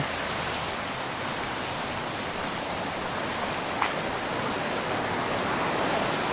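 Water rushes and churns at the Himidurawa mini waterfall in a steady, loud broadband roar that stays constant throughout, with no talking.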